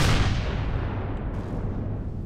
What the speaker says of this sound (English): Unloaded a crap ton of missiles on him now.